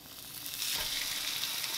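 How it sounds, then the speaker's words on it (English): French toast, including a lemon bar version, sizzles in a frying pan, a bright continuous hiss that swells after a piece is set down and stays loud and even. "Listen to that sizzle."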